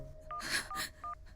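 Telephone dialing tones sound as three short keypad beeps spaced across a second, interleaved with brief bursts of breathy noise.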